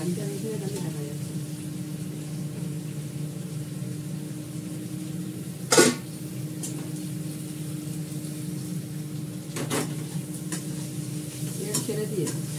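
Curry masala cooking in a pot until the oil separates, a steady low sizzle with stirring scrapes and a few sharp clatters, with a voice talking over it.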